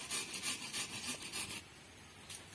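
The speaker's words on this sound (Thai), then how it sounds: "ผมจะลองตัดไม้ที่มันใหญ่ขึ้นกว่าเดิมอีกนะครับ" Compact folding hand saw cutting through a larger piece of softwood, steady rhythmic rasping back-and-forth strokes close to the microphone, about five strokes in quick succession before the cut eases off.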